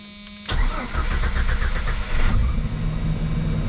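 A 1995 Jeep Cherokee XJ engine cranks briefly, then catches and settles into a loud, steady idle close by, with a rougher surge partway through.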